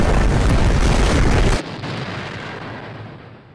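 Explosives blow up in the anime Heavy Object, a loud, dense blast roar that holds for about a second and a half, then drops to a fading rumbling tail.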